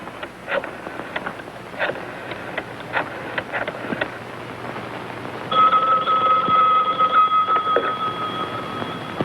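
An old-fashioned telephone is picked up to place a call in a 1950s television drama: faint handling clicks and rustles lead into a steady ringing or dial tone that holds for the last few seconds.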